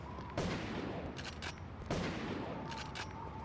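Shotgun blasts in the video game Urban Chaos, two loud booming shots about a second and a half apart, each with a rolling tail, over a steady game background hum.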